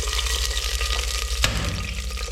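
Onion paste frying in hot oil in a handi for desi chicken yakhni, a dense, steady sizzle close up, with one sharp clink or scrape partway through and a low background hum, no talking.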